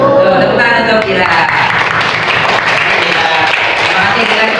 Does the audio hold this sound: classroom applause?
yes